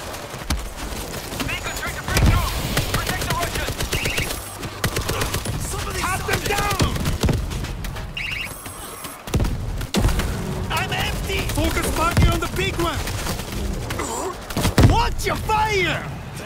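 Heavy gunfire from big guns in the combat game Kamchatka, with repeated loud booms and bursts rolling through the whole stretch amid chaotic battle noise and shouted voices.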